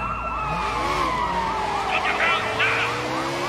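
Two overlapping police sirens wail continuously in the Sleeping Dogs video game, loud and close over the rumble of traffic.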